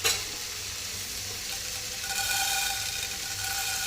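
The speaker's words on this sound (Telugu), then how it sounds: "ఇప్పుడు ఇంకో గిన్నె పెట్టుకున్న మసాలాలు వేపడానికి." Whole spices such as coriander seed, cumin and fenugreek roast in a hot pan for a fish curry, making a continuous bright sizzle with soft stirring scrapes, close and steady, with no talking.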